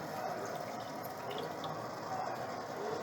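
Thick coconut milk, squeezed from a coconut, pours steadily into a pan as a continuous, even liquid wash without pauses.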